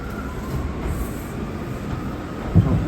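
An R179 subway train on the IND E line rides along with a steady, close rumble of wheels and car noise, a brief louder clunk near the end.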